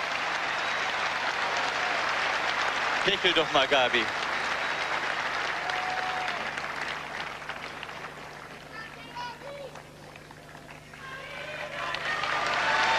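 Crowd at the 1988 Seoul Olympics women's tennis medal ceremony cheers and applauds Argentine silver medalist Gabriela Sabatini, a loud, steady roar of clapping throughout, with a voice speaking over it briefly.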